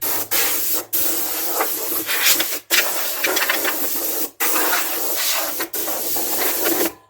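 Loud, steady hissing of an air compressor releasing pressure in long bursts, broken by a few short pauses, close by with no talking.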